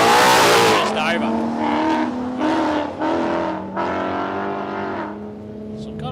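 A Ford Mustang drag car making a pass at Palmyra Raceway, its engine roaring loud with rising and falling revs, heard over a commentator talking.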